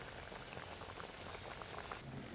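Kaalan, a Kerala Onam sadya curry, simmering uncovered in a pot, a soft, continuous bubbling and popping heard alone at low level.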